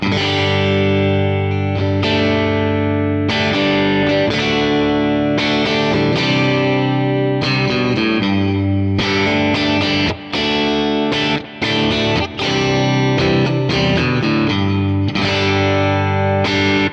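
Distorted electric guitar played through a Kemper profile of a Bogner New Yorker amp at edge of breakup, slightly overdriven, chords ringing out with a few brief pauses between phrases.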